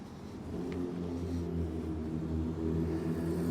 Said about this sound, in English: we got motorcycles and shit coming up here